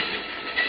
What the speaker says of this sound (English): Lie low till the train goes past.